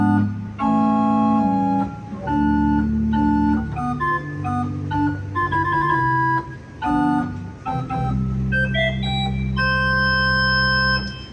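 Kenneth Tickell church organ in St Gabriel's Catholic Church, Middlesbrough, playing the sesquialtera with the 8-foot stopped diapason, a reedy melody over sustained lower chords with a fairground-like tone, loud and continuous without speech.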